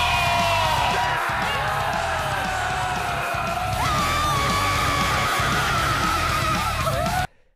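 Anime girls scream like zombies over heavy metal music, with a loud, sustained shrieking chorus riding pounding rhythmic drums throughout before the sound cuts off abruptly at the end.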